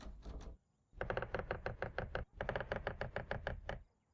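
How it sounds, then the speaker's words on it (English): A special coded knock on a door in a video game: two quick runs of rapid, evenly spaced knuckle raps, close and crisp, separated by a short pause, with no talk. "It said that it was a special knock."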